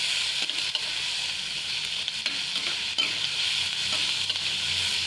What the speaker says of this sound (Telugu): ఇప్పుడు అల్లం వెల్లుల్లి పేస్ట్ వేసేసి కొంచెం ఇది పచ్చి వాసన పోయేంత వరకు లైట్గా అలా వేపుతూ ఉండాలి